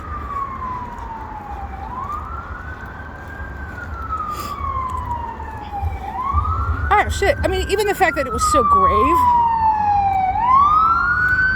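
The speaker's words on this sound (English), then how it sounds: "I think this ambulance is part of the experience, so I'm not going to shut the camera." An ambulance siren passes along a city street, its wailing tone sweeping up and down repeatedly and growing louder as it approaches, with a brief burst of rapid yelp, while a person talks over it.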